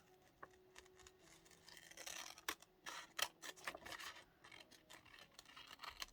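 Paper decoration for a photo album journal being trimmed with scissors, quiet close snips and rustling cuts in an irregular series over several seconds, faint and without talk.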